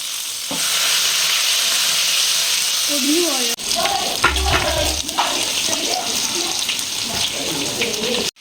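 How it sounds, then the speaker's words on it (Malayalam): Fish frying in hot oil for a Palakkad-style dish, a continuous loud sizzle up close, broken by a sharp clatter partway through, with someone talking over it. "ഇനി നമുക്ക് ഓരോ മീനായിട്ട് വറുത്ത് കോരി എടുക്കാം"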